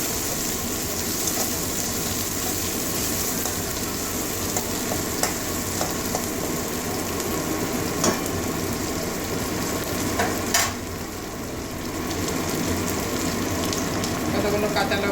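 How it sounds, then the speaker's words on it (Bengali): Chopped large onion frying in a pan for a fish-head and papaya curry, a steady dense sizzle with occasional stirring scrapes running throughout at close range, with no talk. "বড় সাইজের একটা পেঁয়াজ কুটি করে নিয়েছি ভালো করে ভেজে নেবো"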